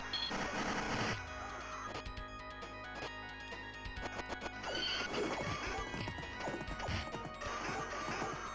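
A horse neighs amid loud arcade game sounds in a Capcom arcade video game, with crashing hits and clip-clopping hooves over dense music.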